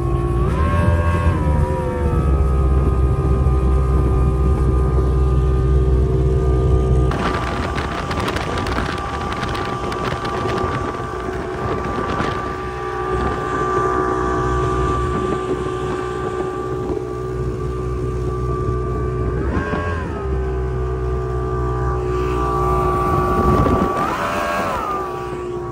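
A Checkmate boat's outboard engine runs on the water with a slight miss, its steady drone dipping and bogging out partway, then recovering with rising revs, under heavy wind buffeting the microphone.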